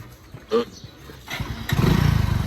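A motorcycle engine starts up and runs with a rough, pulsing, rising rumble after a few brief knocks and a short voice sound nearby.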